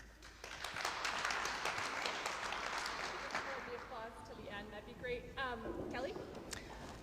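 Applause from a forum audience at a Denver mayoral candidates' event, a broad wash of clapping that fades into a voice speaking over the tail end.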